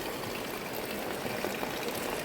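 Iron-rich spring water running from a village spring in Kvasy, Zakarpattia, Ukraine, a steady, unbroken rushing wash heard close up and fairly loud throughout, with no voices over it.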